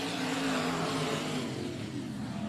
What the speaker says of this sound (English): motor's revved up down the back straightaway